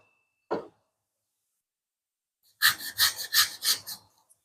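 A knife saws through the cheek of a large hamour fish: one short scrape, a pause, then a close rhythmic run of about five rasping back-and-forth strokes, with no talking.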